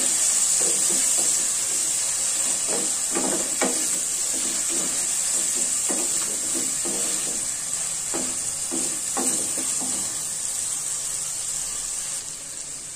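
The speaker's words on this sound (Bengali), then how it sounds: "এখন পেঁয়াজ রসুন আর শুটকিটা ভাজি নেব আমি" Onion, garlic and dried fish (shutki) frying in a pan, a constant loud high hiss of oil with soft intermittent scraping stirs throughout, no talking.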